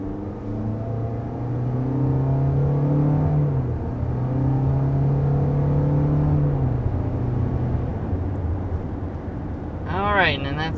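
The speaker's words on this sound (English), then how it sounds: "that's getting up to 60 miles per hour in this Corolla Cross, going a bit downhill" Steady engine and road hum inside a 2022 Toyota Corolla Cross crossover as it gathers speed to 60 mph on a slight downhill, a continuous droning rumble heard from the cabin, with a brief rising whine near the end.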